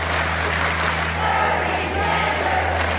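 A large crowd cheers and roars in steady, dense excitement, a sustained wash of many voices at moderate loudness with no breaks.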